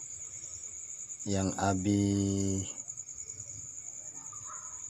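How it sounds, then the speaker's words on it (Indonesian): Young crickets, nine days old, chirp in a steady high shrill on a cricket farm. Someone speaks briefly over the continuous chirping. "Ini umur anakan jangkrik ini umur 9 hari sama hari ini tuh"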